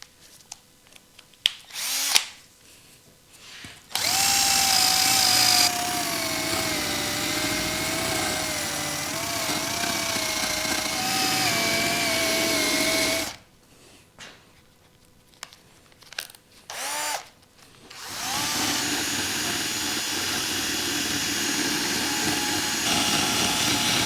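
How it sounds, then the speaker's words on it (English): A power-driven wire wheel scours white powdery corrosion off an aluminium Triumph Scrambler cam cover, giving a loud sustained whirring grind whose pitch wavers under load, stopping twice and then starting again. "next I think we'll get in there with the wire wheel and we'll not only remove any last flaky bits"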